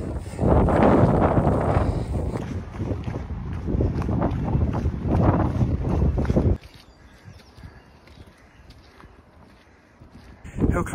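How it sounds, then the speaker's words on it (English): Strong wind buffets the microphone on a downhill stretch of a mountain trail run near Snowdon in loud, roaring gusts, then drops suddenly to a quieter, steady rush before another gust hits. "It's getting windy and cold now"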